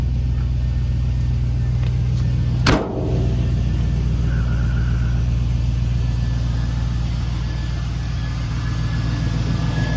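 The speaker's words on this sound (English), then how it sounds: "With that LS fuel injection, that's the nice thing about it. Fires up, runs like a modern truck." A 1953 Chevy 3100 short-bed shop truck with a fuel-injected LS engine idling steadily up close, a constant low rumble broken by one brief sharp click partway through.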